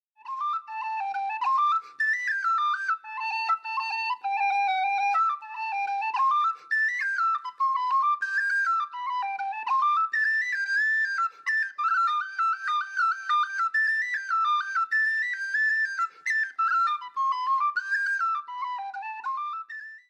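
A traditional Irish tune played solo on tin whistle, a bright ornamented melody running steadily and close for the whole stretch with quick grace-note flicks and brief breath gaps.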